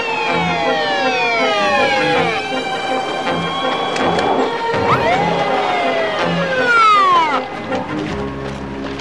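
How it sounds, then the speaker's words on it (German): Police car siren wailing in rising and falling sweeps, loud and close, then fading away near the end, with some background commotion and no talk. "Vater, das ist ein Polizeiauto."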